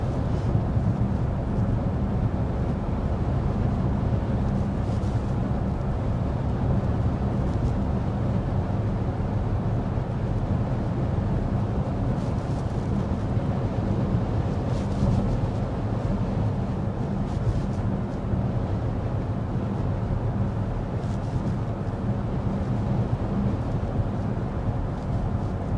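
Inside a 2026 BMW X5 cruising at 55 mph on a windy day with the fan on its lowest setting, a steady, unbroken roar of road and wind noise fills the cabin for the whole stretch, with no talking.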